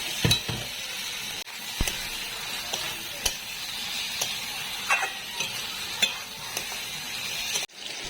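Potatoes go into a pan of frying spice paste and get stirred, with a soft sizzle underneath. Scrapes and knocks of the utensil against the pan repeat at irregular intervals, and a louder clatter comes near the end.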